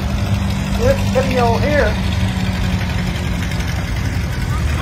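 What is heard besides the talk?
antique tractor engines idling at tractor show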